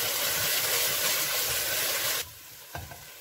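Curry powder and thyme frying together in a pot for jollof rice, a steady bright sizzle that drops abruptly to a quieter hiss after about two seconds, followed by a brief stir clatter.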